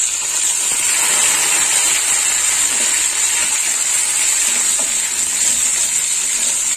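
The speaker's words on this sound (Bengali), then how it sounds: "ফোড়নটা ভাজা হয়ে এসেছে, এবার একটু সর্ষে বাটাটা দিয়ে দেবো" Mustard paste hitting hot oil over fried tempering spices, giving a steady, loud, close sizzle and hiss with a bright high edge that runs unbroken the whole time, with no talking.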